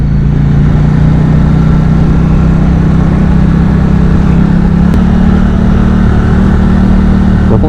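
A KTM 790 Duke A2 motorcycle engine pulls hard through the low gears, a loud, steady mid-pitched drone held close for the whole stretch with no pauses and no voices.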